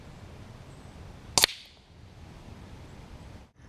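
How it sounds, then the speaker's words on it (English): A .25-calibre AEA HPSS air rifle pellet strikes a pink paintball set on a pumpkin and pops it, giving one sharp, brief crack over quiet outdoor background. "See, when you hit them paintballs, they actually pop. They make a nice little noise too."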